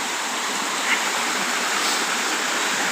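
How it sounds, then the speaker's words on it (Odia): The waterfall at Chakratirtha kund makes a constant, full rush of falling water, loud and unbroken from start to finish, with no talking. "ଝରଣାଟା ପୁରା ରହିଲା ଉପରେ"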